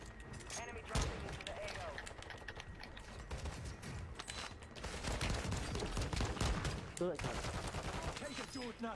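Rapid gunfire from a multiplayer shooter video game, including shotgun blasts, cracks in quick bursts and scattered single shots under excited players' voices and keyboard clatter.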